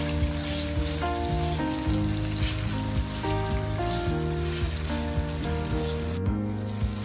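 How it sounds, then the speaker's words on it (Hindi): Marinated chicken fries in a pan with a moderate, continuous sizzle under steady background music, and nobody speaks. "हमने पहले चिकन को फ्राई करना अच्छे से।"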